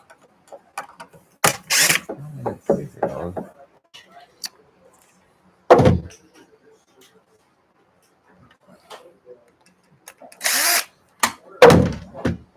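A power drill bites into wood in a few short bursts, loud and close, separated by near-silence and scattered speech.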